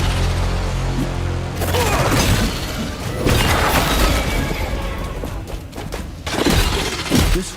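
Shattering blows in the video game Atlas Fallen, a dense, loud wash of crashing, smashing impacts and booms that runs almost continuously, with heavier hits surging near the end.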